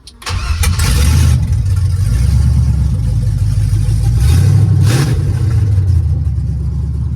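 A 1965 Chevrolet C10 pickup truck's engine fires up and runs loudly nearby, with a rumbling idle that swells into a brief rev before settling back.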